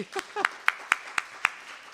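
Several single claps from a storytelling event audience, spaced evenly about a quarter second apart and fairly faint, after a brief voice at the start.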